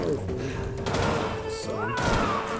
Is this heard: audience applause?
no